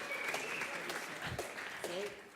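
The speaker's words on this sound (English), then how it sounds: "give a big round of applause for Alex" Brief audience applause at a blockchain hackathon pitch event, faint and spread out, sits under someone speaking over it throughout.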